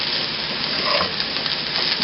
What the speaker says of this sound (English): So you just want to gently stir this so that you don't break up the rice too much.